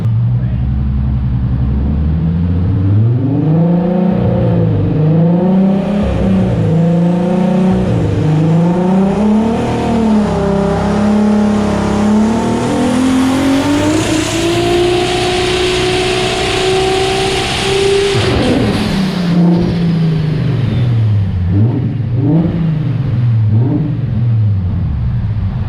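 A home-built Audi RS3 making over 1100 whp runs on a dyno, its engine droning and climbing through repeated revs, then sweeping up to a long high-rpm pull before dropping back, loud and continuous.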